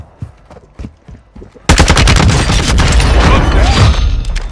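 Rapid bursts of video game gunfire in a battle royale duo match break out suddenly after a stretch of sparse, scattered shots, then sustain as dense, loud automatic fire and heavy impacts.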